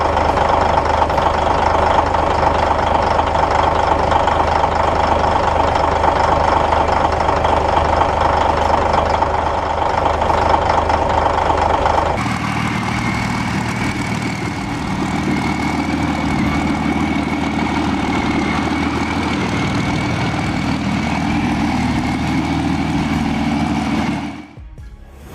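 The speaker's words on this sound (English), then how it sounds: "When a Caterpillar D9G cold starts, it's more than just noise. It's raw power coming alive." A Caterpillar D9G bulldozer's 12-cylinder diesel engine idles after a cold start, a loud, deep, knocking rumble that runs continuously, shifts to a smoother, lower idle partway through, and cuts off at the end.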